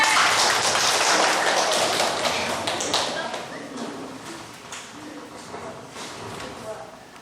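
A classroom of students claps for a classmate called up to present group discussion results. The applause is dense and close, starts loud, then thins and fades over several seconds.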